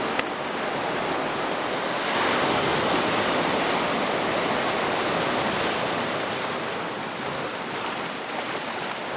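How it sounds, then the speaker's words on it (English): Ocean waves wash steadily onto a beach on Weh Island, a continuous loud roar of surf with no breaks and no voices. "I can listen to the waves."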